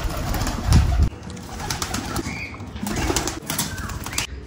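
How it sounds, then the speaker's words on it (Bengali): Pigeons being let out on an outing on the Ganges, with a burst of loud wing flapping near the start, then continued fluttering and faint bird calls. "তো চলো পায়রাদেরকেও ছেড়ে দিই"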